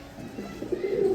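Spanish pouter pigeons, a JNS pair, coo close by in a single short, low, rising call that swells louder toward the end.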